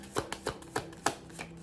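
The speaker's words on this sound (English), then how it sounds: "that was not a good shuffle" A deck of tarot cards is shuffled by hand in six or so quick, crisp bursts, close and fairly loud, with no talking.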